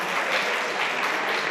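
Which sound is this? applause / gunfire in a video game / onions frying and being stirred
applause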